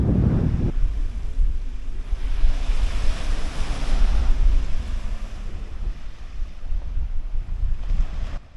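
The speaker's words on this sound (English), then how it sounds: "it's another stunning beach on the island" Steady surf washes onto a beach on Calvert Island, a continuous roar of breaking waves with some wind buffeting the microphone, no voices.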